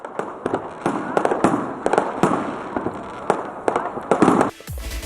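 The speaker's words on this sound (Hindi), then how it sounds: "आतिशबाजी के शानदार मुजाहिरे किए गए।" New Year's midnight fireworks burst over city streets in Pakistan, a rapid run of sharp cracks and booms at uneven intervals, some close and loud, echoing against a steady crackling background.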